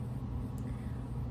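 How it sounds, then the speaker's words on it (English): An air conditioner hums steadily indoors, a low even drone with no talk over it. "And the air conditioner just turned on."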